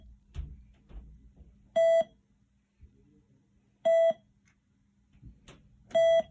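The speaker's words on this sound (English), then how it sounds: "we will hold E for 5 beeps, which will play the lock melody" Three loud electronic tones from an electronic safe's keypad, each a short harmonic beep cluster, spaced about two seconds apart, with faint handling clicks and rustle between them.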